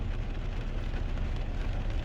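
Heavy rain heard from inside a car driving on a highway, a dense, steady roar of drops and road noise, loud and unbroken, with no one speaking.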